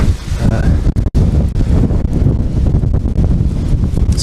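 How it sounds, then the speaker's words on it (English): Strong winter wind in Ashiya City, Hyogo Prefecture, buffets the microphone, a continuous roaring rumble with gusty surges and brief dips. "It's quite windy, but it's not so cold."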